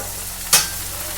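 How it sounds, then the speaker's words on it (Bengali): Gram flour kochuri deep-frying in hot oil makes a continuous, even sizzle, with one sharp splashy burst midway that quickly settles back into the bubbling. "দেখুন দ্বিতীয় ছাতুর কচুরিও কিন্তু সুন্দর করে ভাজা হয়ে যাচ্ছে"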